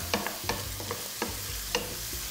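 Boiled water is poured into a hot pan while soup is being made, giving a soft steady sizzle with several sharp crackles and pops over a low bubbling hiss, fairly quiet and close.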